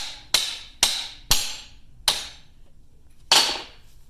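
Hammer blows knocking a U-joint cap out of an ATV yoke: five sharp metallic strikes, the first three quick and evenly spaced, then two more after longer pauses, close and ringing briefly.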